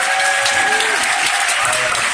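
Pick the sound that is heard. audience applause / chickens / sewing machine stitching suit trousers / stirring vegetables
audience applause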